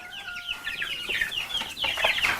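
Chickens cluck and chatter close by, a series of short overlapping calls growing busier toward the end.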